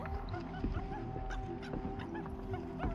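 Dog barks and whimpers in a snowy video game, short yips and whines recurring over a steady game soundtrack with busy tonal music underneath.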